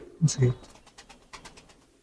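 Pigeons in a loft of long-kept birds, with a couple of close, low coos followed by softer fluttering and rustling, faint and brief.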